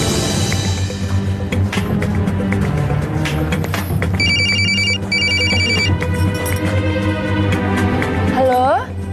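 A phone ringtone plays loud and close, a repeating electronic melody. Indoor background noise runs throughout, and a rising tone closes the clip.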